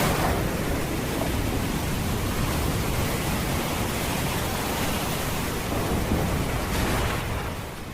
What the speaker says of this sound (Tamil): சிறிது நேரத்தில் இடிமின்னலுடன் மழையும் வந்தது.